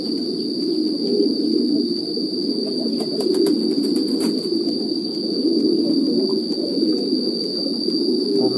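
A dense, steady chorus of many pigeons cooing at a farm that breeds pigeons for breeding stock and meat. The low, rolling murmur runs unbroken throughout under a constant high insect-like whine, with no voices.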